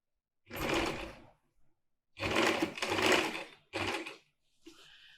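A sewing machine stitching a yoke runs in several bursts of steady whirring, with short pauses between runs and a softer final stretch.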